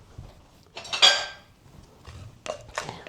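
A bowl scraper clinks and knocks against a mixing bowl while bread dough is being made, several sharp close-up clatters with brief rattles between them and no talking.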